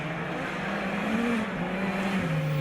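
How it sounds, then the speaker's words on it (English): A Ford Fiesta Super 1600 rally car on a special stage at the Barum Czech Rally, its engine a loud sustained drone with a high whine that rises and falls as it revs. "here we can see Petr Zegnik in his Ford Fiesta, S1600, sorry, Super 1600"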